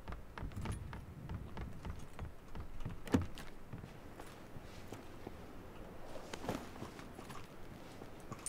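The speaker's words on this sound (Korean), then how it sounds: "발소리." Footsteps in the battle royale shooter PUBG Battlegrounds during a duo match, a run of soft, fairly quick steps at moderate distance, with one sharper thud partway through and a faint jingle-like clatter over low background noise.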